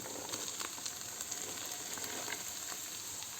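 Purslane sizzles in a pan with tomato paste, giving a steady close hiss with small crackling pops throughout and no talking.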